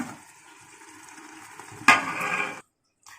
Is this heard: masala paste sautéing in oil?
yes